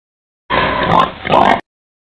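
A gilt on a hog farm gives a loud, close oink-grunt in two quick pulses, standing alone against silence.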